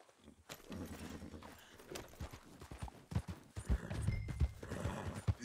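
Horse hooves clip-clopping in Red Dead Redemption 2, a steady walking rhythm of thuds that grows louder toward the end, with a horse whinnying briefly amid other game sounds.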